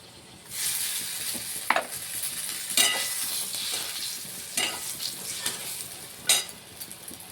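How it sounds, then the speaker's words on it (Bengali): Eggplant pieces seasoned with turmeric and salt fry in hot oil until lightly reddened, giving a steady sizzle broken by several sharp scraping stirs of a utensil in the pan. "ঠিক 1 থেকে 2 মিনিটের মতন আমরা ভেজে হালকা লাল করে তুলে নেব বেগুনগুলো।"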